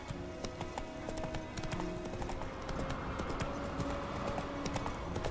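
Hooves of Roach, the horse in the game The Witcher 3, beat out a fast, steady clip-clop of a gallop across open ground, moderately loud over a soft musical background.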